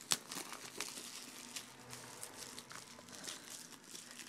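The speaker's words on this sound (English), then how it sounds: "It's just got like the saran wrap type shrink wrap on it." Saran-wrap-style shrink wrap being torn and peeled off a Tales of Xillia Limited Edition PS3 game box, a close, quiet run of crinkling and crackling plastic with a sharp tear at the start.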